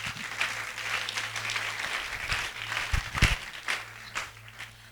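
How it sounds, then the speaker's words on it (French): A church congregation applauds for the glory of God, filling the room with dense, steady, continuous clapping from a crowd, fairly close and loud throughout, with a few sharper claps standing out. "Acclamez pour la gloire de notre Dieu."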